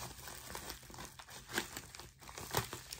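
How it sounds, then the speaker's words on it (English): Bubble wrap around a sound card crinkles and rustles at close range during an unboxing, in soft uneven bursts with a few sharper crackles, quiet overall and with no speech. "Got some bubble wrap."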